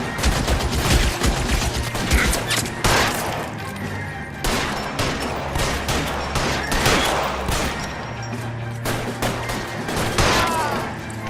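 Rapid gunfire fills a shootout in the video game LA Noire, with dense overlapping shots, cracks and impacts coming in irregular bursts throughout, loud and continuous.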